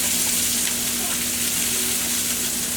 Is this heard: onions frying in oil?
yes